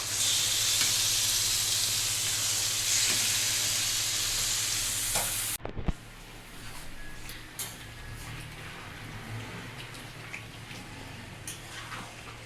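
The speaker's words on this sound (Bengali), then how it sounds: "এবার কষাচ্ছে কষছে মাংস" Marinated meat sears in a hot wok with a loud, dense hiss that abruptly drops after a clatter to a softer, crackling sizzle as it is stirred and browned.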